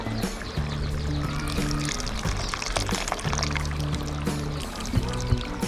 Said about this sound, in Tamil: காய் வெந்துட்டு புளி கொஞ்சம் ஊற்றணும்